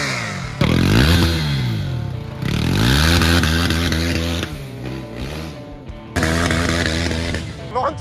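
A KTM RC390 motorcycle rides an off-road trail, its engine revving up and down in repeated rising and falling surges, loud and close, with rough clattering from the track.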